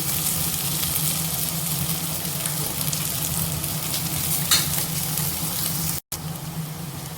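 Crushed ginger and garlic fry in hot oil for egg biryani, giving a continuous close hiss and crackle. The sizzle stays steady throughout and is briefly interrupted by a short silent gap near the end.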